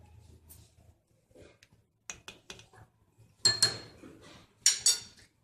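Spoon scraping and clinking against a pot while chicken and vegetable soup with chili sauce and soy sauce is stirred, a few sharp close clinks and scrapes in an uneven rhythm over a quiet background.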